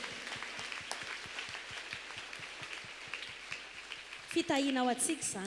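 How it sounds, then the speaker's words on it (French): A church congregation at an Easter Sunday service claps in steady, fairly even rhythm for several seconds before a voice speaks over the end. "Acclamons très fort si on est prêt"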